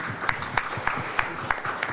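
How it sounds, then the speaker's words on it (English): Sparse, spaced hand claps from an audience at an event, a few sharp, distinct claps over a low background hum rather than a full roar. "A big round of applause."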